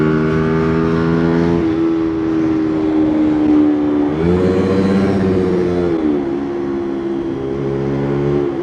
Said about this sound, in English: I swear, this bike has unlimited revs. Like, it'll go all the way up to 13k off of the limiter.